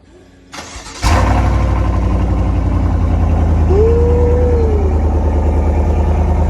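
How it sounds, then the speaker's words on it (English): A 2020 Chevrolet Silverado pickup engine with an aFe muffler delete cold starts, cranking briefly, then catches and settles into a loud, steady idle with a deep rumble close by. "here goes the cold start"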